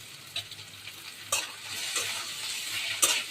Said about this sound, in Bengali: ঢেঁড়স ভাজি করছি, ঢেঁড়সগুলো দিয়ে দিলাম।